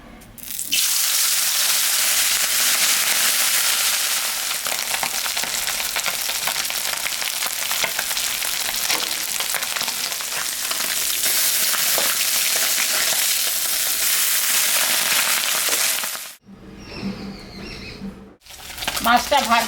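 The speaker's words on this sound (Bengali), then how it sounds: "মাছটা এখন আমি ভাজবো।" Puti fish frying in mustard oil in a wok, a loud, dense, steady sizzle close by for about sixteen seconds that then breaks off into quieter kitchen clatter.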